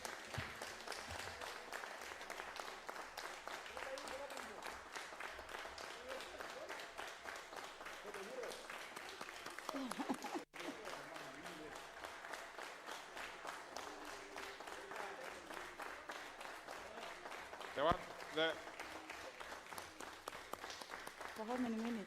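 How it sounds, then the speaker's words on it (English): Members of Kenya's parliament applaud essential workers during the COVID-19 pandemic, a sustained round of clapping from a seated chamber that carries on steadily while a speaker's voice runs over it. "Members of the House clapping for those people giving essential services"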